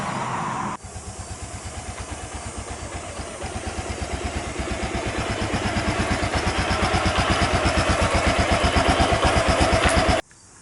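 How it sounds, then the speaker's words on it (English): A Honda XR650L motorcycle rides past, its single-cylinder engine thumping in a steady, close, loud pulse that grows slightly louder and faster before cutting off abruptly near the end. "So we just took the bike for a drive, and it's just returning home here."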